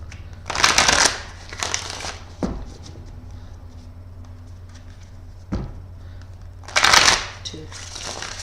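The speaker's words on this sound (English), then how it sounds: "I'm going to shuffle 3 times" Tarot cards are shuffled by hand in three separate bursts of crisp riffling close to the mic, with quiet gaps between them and a couple of soft taps.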